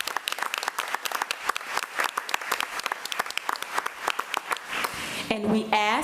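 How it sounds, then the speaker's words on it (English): A crowd at a school board meeting breaks into lively applause, many hands clapping close and loud in a dense patter, and a voice begins speaking over the clapping near the end. "Let's give Hope Green another round of applause."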